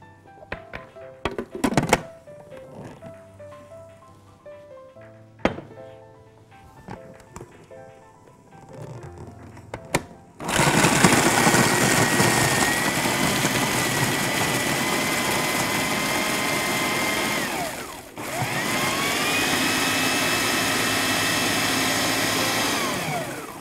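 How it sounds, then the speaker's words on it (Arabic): Kitchen blender grinding biscuits for cinnamon biscuit cream, a loud steady whirring roar that starts after some clinking and knocking, stops briefly and then runs on steadily. "هنروح ضاربين البسكوت اول حاجه"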